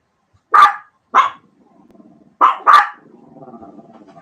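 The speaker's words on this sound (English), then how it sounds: "Dad's talking to the neighbor, so dogs want to go blah, blah, blah" Household dogs bark in short, loud bursts near the door while a person chats with a neighbor outside, four sharp barks in two pairs followed by a low rumbling growl.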